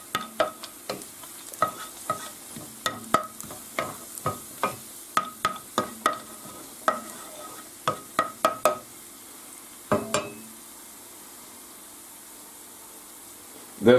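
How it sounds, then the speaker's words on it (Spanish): Pine nuts sautéing in a pan for spinach with raisins and apple, a quiet background sizzle cut by a steady run of close, sharp spoon scrapes and taps that stop near the end, then a final knock. "A continuación echamos los piñones y los rehogamos un poquito también."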